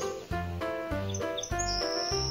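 A toy farm animal plays a recorded geese call, a short run of bright honking chirps and tones repeated over a couple of seconds, close and clear, no voices.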